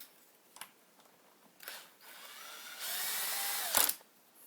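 Cordless clutch drill driving a screw to tighten the plastic recoil starter housing on a small engine: short bursts, then a sustained whirring run ending in a sharp clutch ratchet clack, close and alone.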